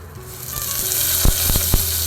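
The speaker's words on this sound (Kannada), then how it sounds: "ಸ್ವಲ್ಪ ಜೀರಿಗೆ ಎಣ್ಣೆಲಿ ಬಂದಮೇಲೆ" Cumin seeds sizzle in hot oil as a steady, close hiss, with a few soft knocks of a spoon against the pan near the end.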